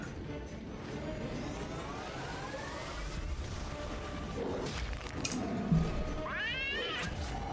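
Tiger Cat pet attack in Wizard101, a rising feline meow and growl with swooshing spell effects and a brief crash, moderately loud over game ambience.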